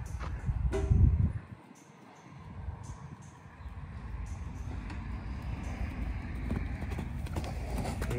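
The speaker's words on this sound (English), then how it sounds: "There's other horses here, huh?" Horses move about outdoors at a bison ranch, their hooves clip-clopping faintly amid a steady wash of wind and ambient noise, with a brief louder rustle near the start.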